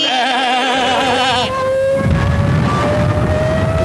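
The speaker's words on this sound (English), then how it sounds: "That noise was a propeller driving a siren" A Junkers Ju-87 Stuka's propeller-driven dive siren gives a loud, sustained wailing scream that wavers and then steadies into a rising tone, with a harsh rushing roar beneath it.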